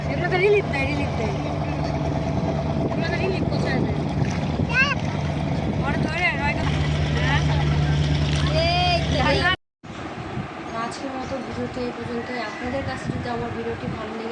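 A boat engine drones steadily on a river while people talk over it and wind buffets the microphone; a brief dropout occurs near the end.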